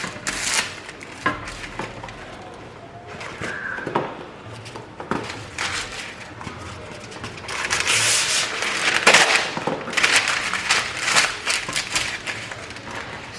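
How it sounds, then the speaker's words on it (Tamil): Parchment paper being crinkled and pressed into a baking tray, a series of crisp rustling and crackling bursts of varying loudness, close by, growing busier toward the end, with no speech. "பார்ச்மெண்ட் பேப்பர் நம்மளோட பேக்கிங் ட்ரேயில் லைன் பண்ணிடலாம்."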